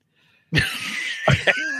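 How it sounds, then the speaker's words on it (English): A person with a lingering cough gives a couple of quick, close coughs and throat clears, following a short moment of quiet. "I still got a little bit of a cough"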